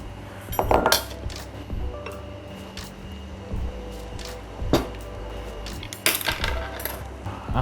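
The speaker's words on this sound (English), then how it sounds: "I'm gonna let this rest whilst I set up the dinner table" Dishes and cutlery clink and clatter while a dinner table is set, with scattered sharp knocks and rattles over a low room hum, fairly close and with no talk.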